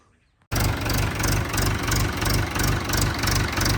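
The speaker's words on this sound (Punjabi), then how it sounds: "ਲੋ ਬਾਈ ਸਟਾਰਟਿੰਗ ਕਰ ਲਓ ਟਰੈਕਟਰ ਦੀ" After a brief quiet moment a Mahindra 585 tractor engine, idle for fifteen days, cranks and catches, then settles into a loud, steady, chugging idle with a regular throbbing pulse.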